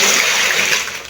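Liquid pours steadily from a blended leaf juice back into a container, a continuous close gushing and splashing that tapers slightly at the end.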